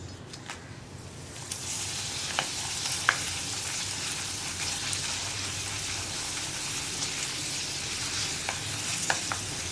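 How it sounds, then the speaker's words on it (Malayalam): Oil sizzles and crackles steadily as pappadam pieces fry, with occasional sharp ticks and clinks from stirring; no voices. "നമുക്കിതുപോലെ കുറച്ച് കുറച്ചായിട്ട് പപ്പടം വറുത്തെടുക്കാം"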